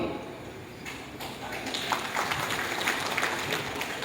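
Applause at an evening hospitality gathering for a community harmony village launch in 2022, a steady fairly faint patter of many hands spread over a few seconds with some sharper individual claps near the end.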